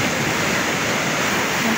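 A swollen river runs high and fast, filling the air with a constant close, loud rushing roar of water with no breaks.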